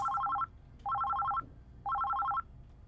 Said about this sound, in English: the office phone rings